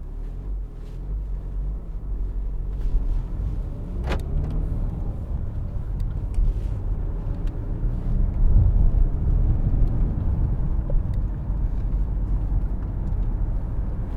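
A BMW 318d ES Touring with a 2.0 diesel engine and six-speed manual gearbox on the move, a steady low cabin rumble of engine and road noise that swells slightly, heard from inside the car with no talk.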